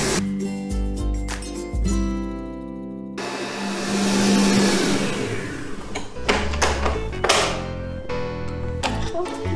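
Electric mixer whipping meringue for a pavlova: a loud, close motor whir whose pitch shifts and surges, with bursts of rattling and clattering from the bowl and beaters.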